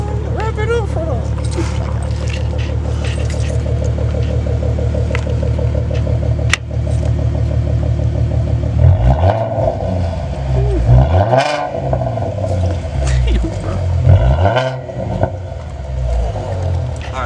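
A Ford Mustang idles with a steady rumble, then revs sharply several times in quick bursts, loud and close, with voices heard around it.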